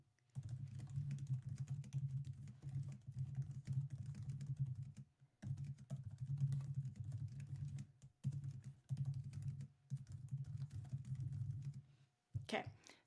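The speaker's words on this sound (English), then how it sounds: "for this one, I'm just going to type in something simple." Typing on a computer keyboard, with steady bursts of close key clicks broken by short pauses.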